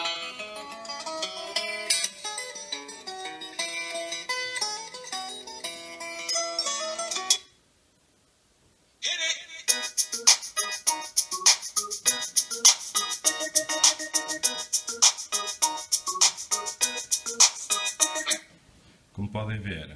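Huawei Ascend Mate smartphone with Dolby Digital playing music through its single rear speaker: bright tonal music with beats, a short silent gap near the middle, then a louder rhythmic passage, heard up close.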